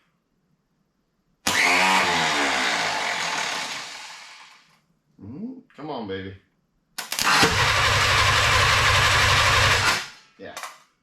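A newly installed engine in a Willys CJ-2A Jeep cranks on its starter, fed 12 volts by clamped leads, in two long, loud whirring bursts separated by a few short stabs, while someone speaks briefly nearby.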